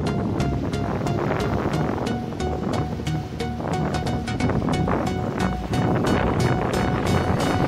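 Strong wind and surf batter a small harbor during a subtropical cyclone, a continuous loud roar of gusts and crashing waves with repeated sharp knocks and rattles, likely from boats, and no talk.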